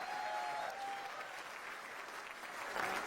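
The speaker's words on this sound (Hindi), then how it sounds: "अरे मजा आ रहा है तो तालियां वालियां बजा के बताओ" A crowd claps steadily at a Marwadi stand-up comedy show. The applause is a sustained, fairly close wash of claps that swells slightly near the end, with a brief faint voice in the background.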